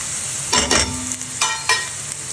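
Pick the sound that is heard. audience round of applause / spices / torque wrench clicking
spices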